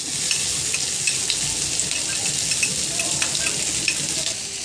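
Chopped onions fry in oil with bay leaf and five-spice seeds, giving a steady close sizzle with faint stirring clicks and no talking.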